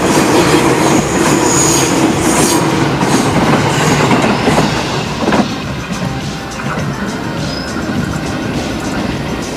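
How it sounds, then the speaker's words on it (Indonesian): An Indonesian KRL Commuter Line electric train rolls past close by on a sharp curve near Cicayur station, a steady loud rumble with rhythmic wheel clatter and faint squeals, easing slightly toward the end. "KRL menikung tajam menuju stasiun Cicayur."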